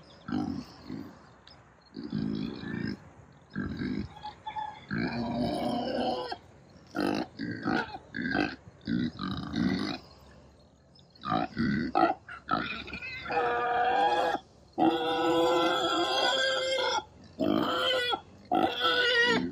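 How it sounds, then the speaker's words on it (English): Pigs on a farm, newly woken in the morning, grunt and squeal loudly and close by in repeated bursts with short gaps, filling most of the stretch. "we're getting the piggies woke up."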